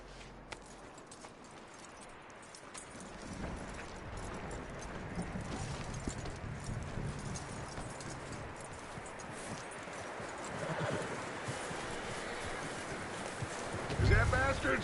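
Hooves clip-clopping on a horse in Red Dead Redemption 2, a steady patter under ambient game noise with a brief louder thump near the end; no clear whinny stands out.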